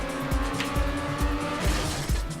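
A car in a racing video game skids hard round a corner and crashes, with engine drone, tyre squeal and a series of repeated heavy thumps, loud and close.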